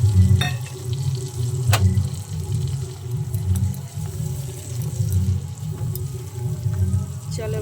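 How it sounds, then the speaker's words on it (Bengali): Poppy seed paste hitting a hot pan and sizzling steadily, a continuous close frying hiss with some stirring and clinking throughout. "দিয়ে দিলাম পোস্ত বাটাটা"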